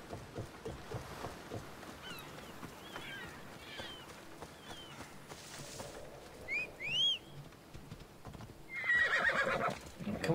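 In a video game, horse hooves clip-clop softly beside lapping water, then a horse whinnies clearly, followed by a louder splashing burst.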